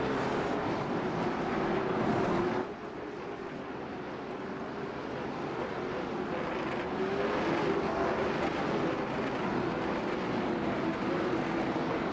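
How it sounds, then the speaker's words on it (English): A pack of late model race cars rolls behind the pace car at a racetrack ahead of a heat race, making a steady, loud engine roar with a rising and falling drone that stays continuous throughout. "Pace car about to drop in."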